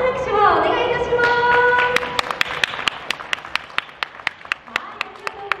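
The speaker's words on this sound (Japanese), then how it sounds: "大きな拍手をお願いいたします" An audience applauds at an evening Polynesian twilight party, first a broad wash of clapping over music, then settling into sharp, evenly spaced rhythmic hand claps in time.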